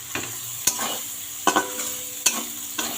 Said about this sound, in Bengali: এই যে লবণ হলুদ দিয়ে আমি সয়াবিনটা ভেজে নামিয়ে নেব।